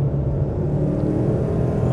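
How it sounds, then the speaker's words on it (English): A 650 HP twin turbo Coyote V8 Ford Mustang pulls hard, a loud, steady low engine rumble heard from inside the car, holding a continuous drone without breaks or talking. "I love how it revs."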